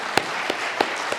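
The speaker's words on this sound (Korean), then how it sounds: "우리 박수로 한번 드립니다." Church congregation clapping for the worship team at a Friday evening service, heard as four distinct, evenly spaced claps that stand out against a quiet hall.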